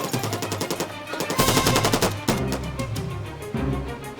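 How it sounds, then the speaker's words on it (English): Automatic gunfire in rapid bursts during a police shootout, loud, close rattling volleys of repeated shots in quick succession, with no speech over them. "With automatic gunfire raining down around them, a woman and a man were hit by the gunman."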